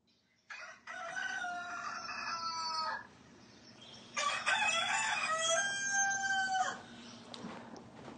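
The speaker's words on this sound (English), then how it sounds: "Immediately the rooster crowed the second time." A rooster crows twice, each call a loud, strained cock-a-doodle-doo lasting a couple of seconds, separated by a short pause and standing alone against a quiet background.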